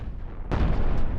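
Cannon fire in a space combat game against a pirate base: a single heavy, booming blast that hits suddenly and rumbles on loudly over a background hum.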